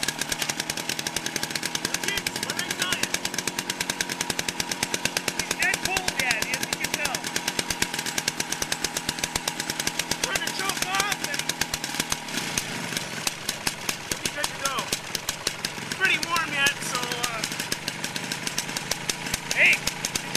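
A 1976 AMF Harley Davidson Aermacchi SS 250 motorcycle engine runs with a loud, rapid single-cylinder popping idle, steady and close throughout.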